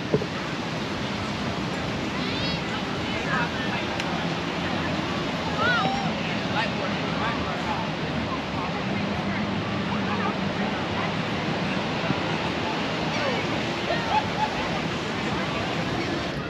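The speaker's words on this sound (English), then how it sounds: "Give you a shot of our beach." Surf washing steadily onto a beach, a constant broad rush of breaking waves with some wind across the microphone and a person's voice faintly underneath.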